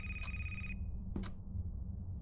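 A telephone rings in the video game A Place, Forbidden, a bright electronic ring lasting under a second over a low background hum, followed by a short knock-like click.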